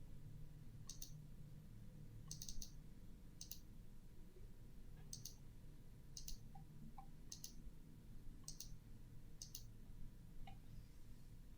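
Sharp mouse clicks come singly and in quick pairs at irregular intervals, set over a steady low hum of room and computer noise with no voices.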